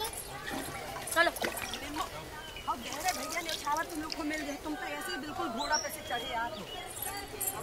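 Water poured out at a Hindu temple during worship trickles and splashes continuously at close range while people talk over it and a bird chirps briefly.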